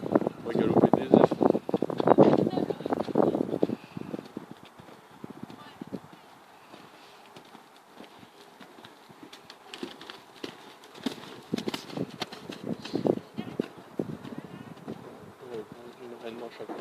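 A horse gallops during a riding lesson, its rhythmic hoofbeats loud at first, fading in the middle and returning later, with birds and insects faintly audible in the outdoor background.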